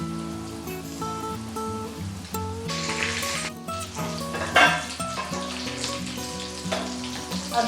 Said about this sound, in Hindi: ऑयल गरम है, अभी हम ब्रेड्स को डालेंगे इसमें।